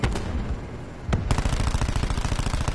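Rapid automatic gunfire in Call of Duty Black Ops 4, loud close bursts of shots with a short gap before a sustained, fast-rhythm volley.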